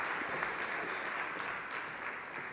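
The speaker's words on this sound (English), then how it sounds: "Another big resounding round of applause." Steady audience applause fills a conference hall, a soft, even wash of many hands clapping heard at some distance, continuous and fairly faint.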